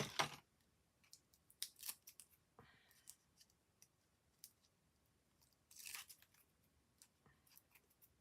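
Scissors snipping a small piece off stamped craft paper, crisp close clicks: a sharp first cut, a few quick snips after, then another louder cut near the end amid quiet handling sounds.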